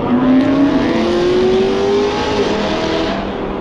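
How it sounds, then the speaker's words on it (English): Cars driving past at an outdoor car showcase: a loud engine rising and revving as it passes close by, its tone sliding upward before fading. "We've got the car showcase out here."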